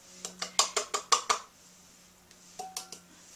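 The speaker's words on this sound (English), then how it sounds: "I'm going to begin that by adding the sugar to my mixing bowl" Sugar poured into a mixing bowl for a Pennsylvania Dutch funny cake batter, heard as a quick run of seven crisp, evenly spaced clinks and taps against the bowl, then a pause and three lighter taps, close by with no talking.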